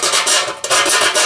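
A hand rasp files the inside edge of a cut pipe during a ball valve install, making several quick rough scraping strokes close by.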